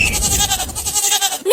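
A goat bleats loudly and close by in a single short, wavering call.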